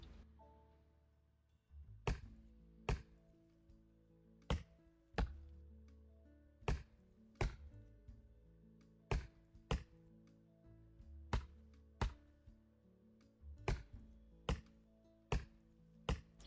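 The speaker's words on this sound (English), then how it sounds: "if you don't consider the chopping trees mundane" Trees being chopped in the Roblox game Lumber Tycoon 2, a series of sharp, evenly spaced axe thwacks about one per second over a quiet low hum, with no talking.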